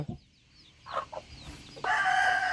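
Broody hen clucking while sitting on eggs during natural hatching, a few low close clucks followed by louder chicken calls, with no talking.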